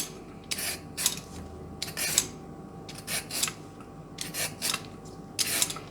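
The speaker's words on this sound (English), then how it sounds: "So of course, first of all, we're peeling them." Vegetables for borscht being peeled in short scraping strokes, close and quiet, repeating in bursts with brief pauses and no talking.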